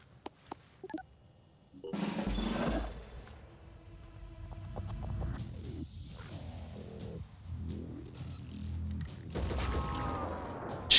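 Gunfire in the turn-based tactics game Phoenix Point, with a few sharp shots early, then heavy bursts of weapon fire, whooshes and impacts that fill most of the stretch, loud and close, with no talking.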